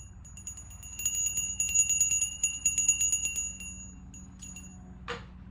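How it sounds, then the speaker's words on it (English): Handbell rung repeatedly near the microphone, a rapid run of bright ringing strikes that swell and then decay into a shimmering tail, followed by a brief soft sound at the end. "Before we get started, I'm going to ring this bell."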